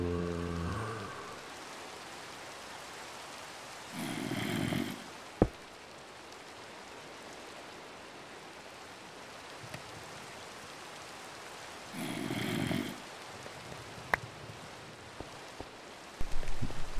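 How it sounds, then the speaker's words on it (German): Steady rain hiss from the Minecraft video game fills the whole stretch at a low level, with two brief louder bursts of other game sounds and a few sharp clicks; no one talks. "Habe gehört, wie der Regen lauter wurde."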